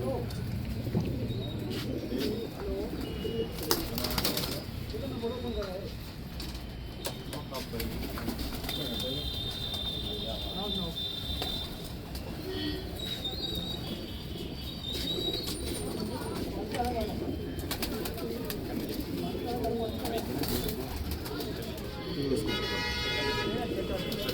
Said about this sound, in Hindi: ये इसके बावे के पुराने गोल्डन कबूतर हैं